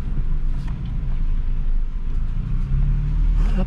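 A Nissan Frontier with a solid axle conversion drives on the road, its steady low engine and tyre rumble loud and close from inside the cab, with no talking.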